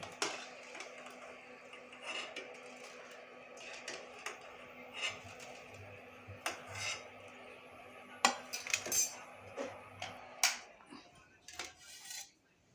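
Fried lentil vadas for dahi vada are lifted from the pan with a metal utensil, making quiet scattered clinks and scrapes over a low steady hum, growing denser toward the end.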